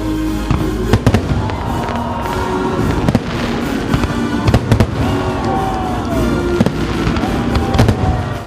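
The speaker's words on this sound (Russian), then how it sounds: "Завершился праздник красочным салютом." Fireworks boom and crackle continuously in a closing festival salute, with sharp repeated bangs and whistling rockets rising over a dense, loud rumble.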